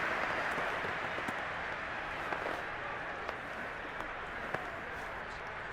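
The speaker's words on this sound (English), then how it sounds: "How about some applause for the defense there?" A stadium crowd cheers and applauds in an American football video game, Cowboys versus Eagles in Madden 22, a faint steady roar of clapping with scattered sharp clicks.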